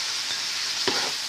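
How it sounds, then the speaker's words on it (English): Ground meat browning in a pan, heard as a loud, dense, even sizzle with a single soft stirring scrape near the end. "And while my meat was browning"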